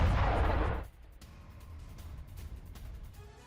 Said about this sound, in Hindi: फैब 500 बमों से की गई भारी बमबारी।